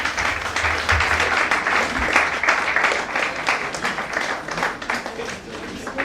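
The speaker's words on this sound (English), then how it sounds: "please make welcome the Aristocrat MC. Yes, how is that for an applause?" An audience at a cabin crew fair applauds loudly and steadily for a few seconds for an MC taking the stage, with dense clapping that holds even throughout and no talk over it.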